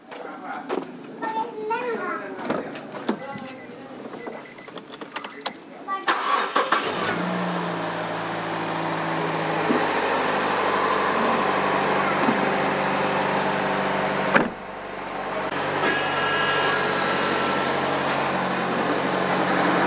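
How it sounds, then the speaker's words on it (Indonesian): A Nissan Evalia of 2012–2013 model year is started: after quiet talk nearby, the engine cranks and catches, then settles into a steady, loud idle with a brief dip midway, as people speak over it. "Kita akan hidupkan mobil, Pak."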